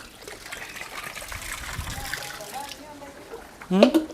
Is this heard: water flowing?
yes